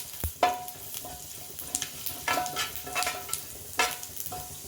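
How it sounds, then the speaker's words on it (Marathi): Cumin seeds crackle in hot oil for a spiced brinjal masala, a steady sizzle punctuated by sharp clinks of a spoon against the pan. "तेल टाकल्यानंतर आपण याच्यामध्ये जिरं टाकणार आहोत मस्त असं जिरं"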